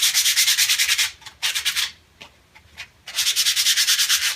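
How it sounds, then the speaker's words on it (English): Alder wood sanded by hand with 80 grit sandpaper: rhythmic, close rasping strokes in quick bursts, a short pause, then a fresh run of rapid back-and-forth scrubbing. "sanding with a piece of 80 grit sandpaper"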